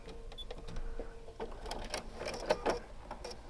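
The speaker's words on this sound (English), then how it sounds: "I'm going to do a back stitch since this is the edge of the border here and we're not stitching over that again." A sewing machine back stitching at the edge of a quilt border, a quiet short run of rapid mechanical clicking and whirring that pauses briefly before resuming in brisk bursts.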